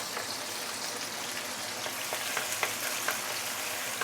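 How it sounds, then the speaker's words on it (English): Spicy bean paste frying with chicken in a wok, a dense, even sizzle with scattered small pops and crackles, close and continuous with no voices. "We're going to add in 1 tablespoon of spicy bean paste."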